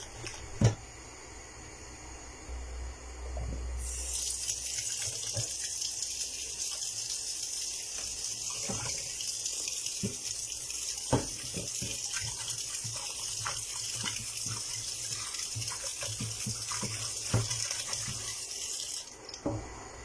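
A tap pours water in a steady, hissing gush for the full stretch, with occasional clinks and splashes as something is rinsed beneath it.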